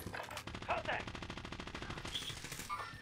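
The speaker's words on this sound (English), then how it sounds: "Shoot. I'm under fire." Rapid automatic gunfire from a shooter video game rattles on steadily with dense bursts, while players talk excitedly over the shooting.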